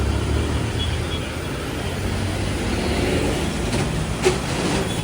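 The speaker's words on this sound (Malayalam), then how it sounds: "ആ ഒരു നഗരത്തിൻ്റെ തിരക്കിലേക്ക് ഇതാ ട്രാം പോവുകയാണ്." A Kolkata tram rolls through busy city traffic on the Esplanade to Shyam Bazar route, giving a steady low rumble of wheels and street noise throughout, with a brief sharp click near the end.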